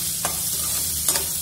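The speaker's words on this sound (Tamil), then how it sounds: "இப்போ வெங்காயம் வந்து நல்லா வதங்கவும் 2 பச்சை மிளகாய் சேர்த்துக்கலாம்." Onions sautéing in a pan, cooked until soft for rice and dal: a steady close sizzle with two brief stirring scrapes, no voices.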